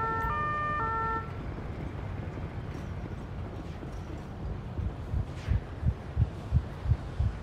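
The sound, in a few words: ambulance siren passing in video game GTA 5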